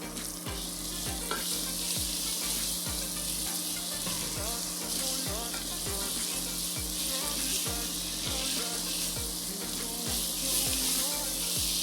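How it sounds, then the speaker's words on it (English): Peels frying in oil in a carbon steel pan over high heat, a continuous crackling sizzle with repeated scraping as they are pushed around, under a low steady hum, no talk. "Just fry these peels till they are charred and smoking."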